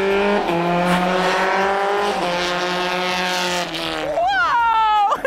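F1 race cars roar past on a racetrack, their high engine whines rising and falling with gear changes, loud and close, ending in a sharp sweeping pitch as one car screams by.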